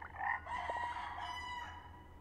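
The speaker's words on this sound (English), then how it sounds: "Oh, and the cock-a-doodle-doo." A rooster crows once, a drawn-out cock-a-doodle-doo at moderate distance over a quiet outdoor background.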